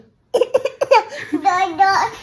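A small child gives a few short, sharp coughs close up, then breaks into chatter in a high, lively voice.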